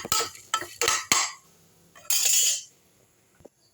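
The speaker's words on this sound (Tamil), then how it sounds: "இந்த ஒரு கைப்பிடி அளவு கருவேப்பிலையை அதிலே போட்டுக்கலாம் இது எல்லாத்தையும் லேசாக நல்லா வந்து வறுத்துடலாம்" Curry leaves and spices for a pepper chicken curry are dry-roasted in a pan, giving a quick run of metallic scrapes and clinks followed by one longer scraping sweep, close and clear, then near silence.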